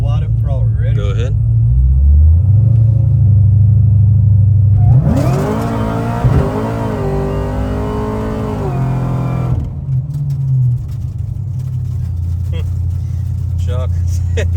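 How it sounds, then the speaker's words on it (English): A supercharged LSA V8 engine revs up hard at wide open throttle on an uphill pull, a loud rising roar with climbing harmonics lasting several seconds between steady idle rumble, with people talking over it. "I'm gonna go wide up throttle."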